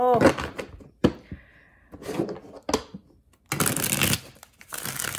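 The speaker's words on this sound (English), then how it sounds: "we're just shuffling a bunch of times" Tarot cards riffled and shuffled in several short bursts, crisp flutters separated by pauses and soft taps, close up.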